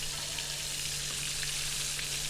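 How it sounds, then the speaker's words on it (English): Frog legs frying in a pan at medium heat alongside vegetables, turning golden brown, give a steady, close crackling sizzle that holds evenly throughout with no talking. "our frog legs are already starting to sizzle up and getting really good and starting to turn golden brown"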